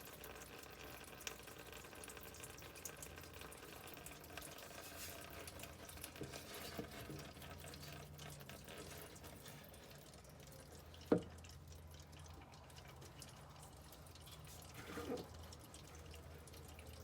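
Diesel fuel draining from the frame-mounted fuel filter of a 2019 Ram 2500 with the 6.7 Cummins, a faint steady trickle and drip with a couple of sharper drops, close by and alone.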